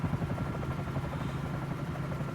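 A helicopter in a flight simulator game flying over New York, a continuous rhythmic rotor thumping with low engine drone, steady and fairly faint with no talking.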